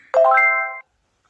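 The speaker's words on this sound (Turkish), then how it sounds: "Akbank'tan bildirim geldi ya" A phone notification chime from the Akbank banking app, a single bright melodic tone with steady harmonics lasting under a second, clear and close with no talk over it.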